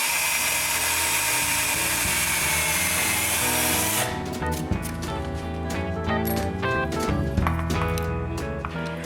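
A power drill bores a pilot hole into a wooden tripod with a steady whine, then switches to pulsing, stuttering bursts as a screw drives the attachment into place, loud and close.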